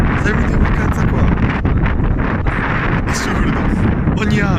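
Strong seaside wind buffets the microphone in a constant loud roar, steady across the whole moment with faint voices barely showing through the rumble.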